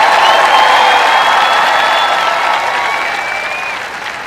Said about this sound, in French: Maintenant, vous pouvez applaudir et faire du bruit.